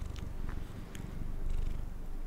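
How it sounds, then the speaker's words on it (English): A cat purrs right up against a microphone, a close, low, continuous rumbling with small breathy bursts. "What are you doing to my microphone, you silly cat?"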